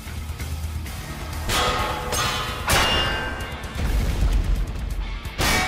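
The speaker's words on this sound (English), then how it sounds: "I for some reason thought that was the sound of the medic falling." Heavy thuds and crashing impacts from a Source Filmmaker (SFM) animation of a body falling, several loud dull hits spread across the clip, the last sharp one near the end, over a busy background of game sound.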